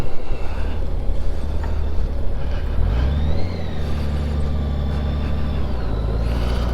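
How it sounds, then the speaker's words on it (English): Trucks rumble past on a quiet road, a steady loud engine drone with a deeper heavy vehicle swelling in midway, close by and alone with no talk. "Love the trucks over here."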